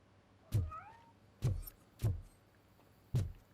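A cat in the RoboCop Rogue City video game gives one clear meow early on, then several short, sharp thuds or impacts follow at intervals, close and fairly loud, with no talking.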